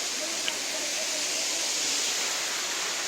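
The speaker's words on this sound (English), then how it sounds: "That's the waterfall." Steady broadband rushing of the Shilchhara waterfall in Tripura, a hidden jungle cascade, heard as continuous even white-noise roar at moderate distance with no pauses.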